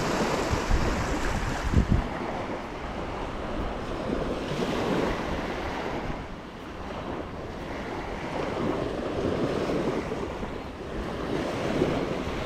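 Ocean surf rolls onto a beach in a steady wash of breaking waves, slowly rising and falling, mixed with gusty wind buffeting the microphone and no voices.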